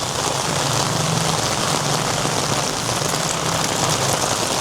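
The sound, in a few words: heavy rain falling in Thailand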